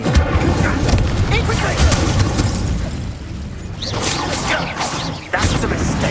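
Fiery spell blasts from the Incendio charm in the Hogwarts Legacy game, a dense roaring whoosh with booming, crashing bursts that swell and cut out near the end, continuous and loud with game noise layered over it.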